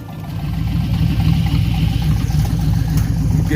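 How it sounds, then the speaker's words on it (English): An LS-swapped G-body car engine revs lightly with a steady, loud, close rumble that holds for the whole stretch with no talking over it. "That was like barely touching the gas."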